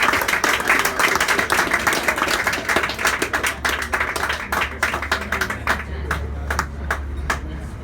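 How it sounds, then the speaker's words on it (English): Applause from a crowd at a sports club's medal presentation, a dense, steady clapping that runs for several seconds and thins toward the end, with a low hum underneath. "So a big round of applause for Stephen O'Hearn."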